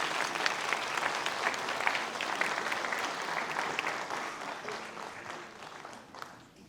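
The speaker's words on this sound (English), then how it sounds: "A big round of applause." Sustained applause from an audience at a Darjeeling presentation ceremony, dense and steady, fading slightly toward the end, with no speech over it.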